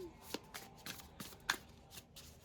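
Tarot cards being shuffled during a reading, a series of soft riffling bursts and papery slaps, close and quiet with a brief pause between handfuls.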